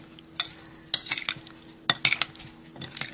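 A tablespoon scrapes and clinks against a platter while tossing antipasto in olive oil, a few sharp metallic taps and stirring scrapes in irregular bursts, close and alone.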